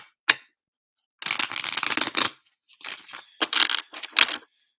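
Cards being shuffled up close: a sharp snap, then a long riffling burst followed by several shorter riffles and flicks, with no voices.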